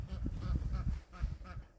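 Ducks quack and honk outdoors on a rural property, several rapid, nasal calls overlapping in a close, steady chatter.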